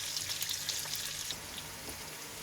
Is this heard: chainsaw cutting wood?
no